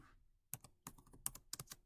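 Typing on a computer keyboard, a quick irregular burst of crisp key clicks after a brief quiet start, close and soft, with no one talking.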